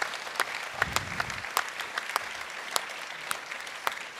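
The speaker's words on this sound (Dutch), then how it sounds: "Mag je best wel klappen." Scattered applause from the audience at a PvdA party members' council meeting: sparse, fairly faint claps spread across the hall rather than a dense ovation.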